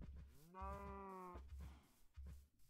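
Minecraft cow moos: one drawn-out bovine moo sounds clearly over soft game background noise, with low thumping footsteps before and after it.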